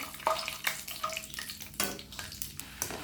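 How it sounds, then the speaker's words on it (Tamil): A handful of peanuts frying in hot oil, a steady bubbling crackle with a few louder stirring scrapes of a spoon against the pan, close and without talk. "இப்போ இதே எண்ணெயில் ஒரு கைப்பிடி அளவுக்கு வேர்க்கடலையை போட்டு ஃப்ரை பண்ணி எடுத்துக்க போகிறேன்"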